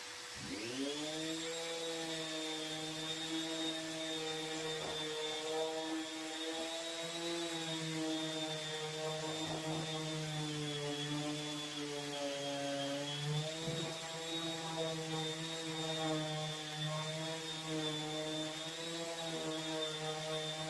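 A power sander working a wood trim component with dust collection running, a steady high whining drone that holds constant for a long stretch, with slight pitch dips as pressure changes.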